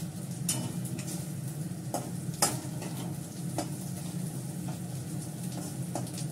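Onions fry in a pan with a continuous close sizzle, broken by occasional clicks of a utensil stirring against the metal. No one speaks.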